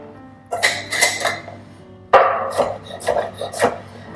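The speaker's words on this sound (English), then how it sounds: "so I'll chop a little" A knife chops cut-up cucumbers on a board, a few close crisp cuts, then a sharp knock followed by another short run of quick chops.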